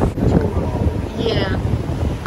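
Strong wind buffets the microphone with a continuous rumbling roar, and a voice can be heard faintly under the gusts.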